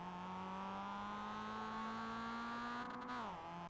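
A Mazda MX-5 at Tsukuba in iRacing accelerates with a loud, clear engine note whose pitch climbs smoothly through a long pull. Near the end it drops sharply as the car shifts or lifts, then settles again.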